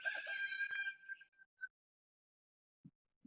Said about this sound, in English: y'all hear Papa Rooster over there?